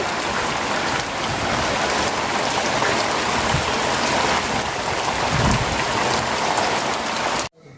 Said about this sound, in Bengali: এভাবে অনেক বৃষ্টি নামছে